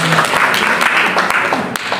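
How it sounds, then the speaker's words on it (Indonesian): A church congregation at a prayer and fasting gathering on Gunung Salak, Bogor, claps and cheers in a loud, dense burst of applause, with a voice mixed in. "Berikan tepuk tangan yang meriah bagi Tuhan"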